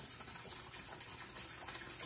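Water dumped out of a plastic jug pours in a steady, faint gushing splash lasting a couple of seconds.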